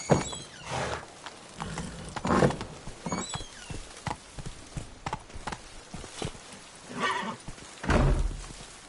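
A horse in the Witcher 3 video game, its hooves clip-clopping in a brisk irregular rhythm close by, with whinnying and snorts breaking through between strides.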